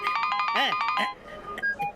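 A mobile phone rings with a short repeating electronic ringtone as a wife calls, moderately loud and close, while people talk over and around it.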